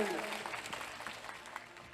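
Applause from an audience at a Koli Thakor Samaj community gathering, a steady moderate patter of many hands clapping that continues throughout.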